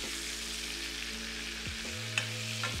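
A cod fillet frying skin side down in foaming butter in a hot pan, with a soft continuous sizzle and a couple of brief clinks or scrapes, heard alone under a low steady hum.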